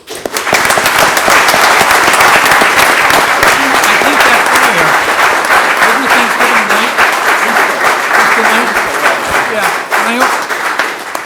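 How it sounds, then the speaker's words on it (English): Loud, dense applause from an audience at a fire district promotion and awards ceremony, close and sustained for about ten seconds with rapid overlapping claps before it starts to thin at the end. "I think everybody should be applauded, and I just want to say congratulations to everybody"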